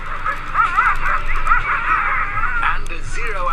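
Sled dogs in the Arctic bark, yip and whimper in repeated excited bursts close by, layered over a steady outdoor rumble with people talking nearby.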